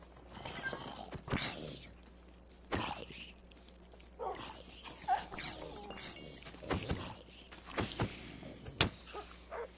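Tamed wolves in Minecraft Bedrock Edition give several short, sharp barks scattered over a quiet background, fairly close, with faint other game noises between them.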